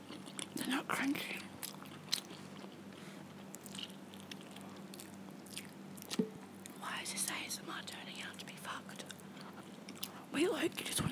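Soft, close chewing and biting sounds with occasional crunches, interspersed with quiet whispered voices over a low steady hum.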